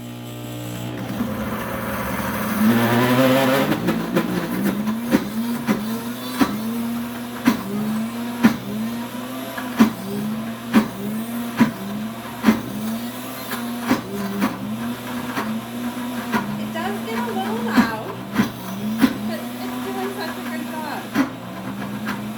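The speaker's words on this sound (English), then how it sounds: "I'm going to turn my wheel to grind." A Pampered Chef Deluxe Cooking Blender grinds hummus with a steady low motor drone and regular, repeating knocks, while a voice talks over the machine.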